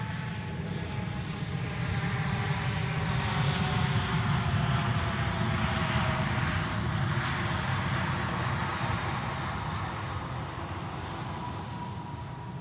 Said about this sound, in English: should I focus on the engines when the aircrafts are passing us